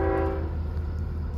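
CSX freight train switching at an industry siding, its horn blaring loud and close at the start, then fading into the steady rumble of the idling locomotive.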